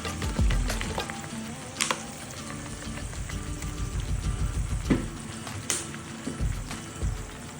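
Chicken sizzling in a hot pan for spicy Chicken 65 as chili sauce goes in, with steady crackling frying noise and a few sharper pops and scrapes, no voices.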